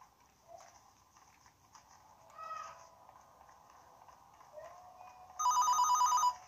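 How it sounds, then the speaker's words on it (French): A telephone rings in a Fortnite Ghostface horror map, a bright electronic ring bursting in loudly near the end over quieter game ambience and faint clip-clop-like noises. "Encore le téléphone?"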